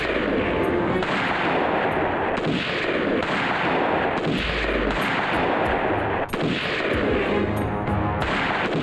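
Gunfire in a Bollywood action film crossfire scene, dense and continuous, with loud repeated shots and booming blasts rolling over one another at close range for the whole stretch.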